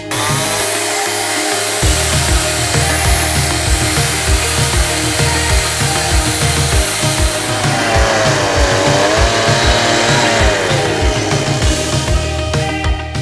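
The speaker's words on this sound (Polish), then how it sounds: "W międzyczasie zmieniłam piłę na spalinową bo już trochę był tępy łańcuch" A petrol chainsaw cuts into a tree trunk to hollow it into a planter, its engine droning loud and steady throughout with rising and falling revs as the chain bites into the wood.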